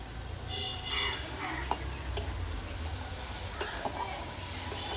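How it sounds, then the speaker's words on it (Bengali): Spices stir-fried with salt, turmeric and tamarind, a steady low sizzle with a few sharp ticks of a utensil against the pan, close and without talk. "মশলাটা কষিয়ে নেব।"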